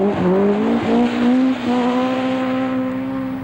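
Rally cars from the 1978 British Open Rally Championship, Escorts and Chevettes, race through a forest stage, engines howling close and loud with rising and falling revs and brief tyre squeal as they slide.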